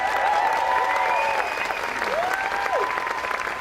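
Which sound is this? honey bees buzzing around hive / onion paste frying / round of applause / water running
round of applause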